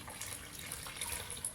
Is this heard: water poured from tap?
yes